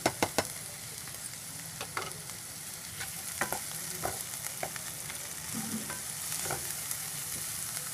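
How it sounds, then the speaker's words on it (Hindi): Chopped capsicum (bell pepper) frying lightly with onions in a pan, giving a soft steady sizzle broken by repeated scraping clicks and knocks of a spoon stirring, with no voices. "अब इसे मैं हल्का सा भुनने दूंगी"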